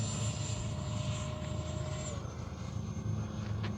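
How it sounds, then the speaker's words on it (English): A Freewing 70mm F-22 Raptor RC jet is flying slowly by with its landing gear down and flaps extended for landing, giving a steady whining electric ducted-fan hum with a high tone that drops in pitch partway through. "Haven't flown this plane in quite a while."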